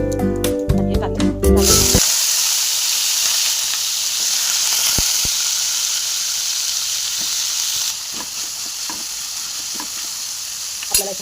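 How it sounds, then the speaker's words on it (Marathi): Bitter gourd (karela) drops into hot oil with a small amount of cumin and erupts into a loud, close, hissing sizzle that holds steady and eases slightly later on. It follows a brief burst of music at the start. "तेल गरम झाल्यावरती आपल्याला कारले टाकायचे त्याच्यात"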